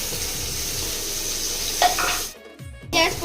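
Shrimp, potato and onion fry in a pan with a steady close sizzle and crackle throughout, briefly dropping out near the end before the hiss returns with a few sharper pops.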